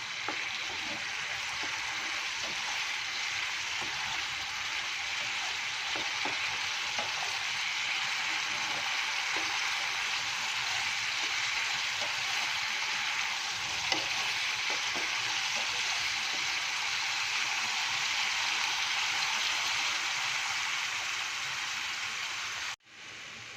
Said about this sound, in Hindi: तो मसाला को अच्छे से भूनूंगी साइड से जब तक तेल ना छूटा है।